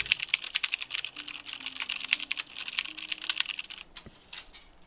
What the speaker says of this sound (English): here, this is my work keyboard.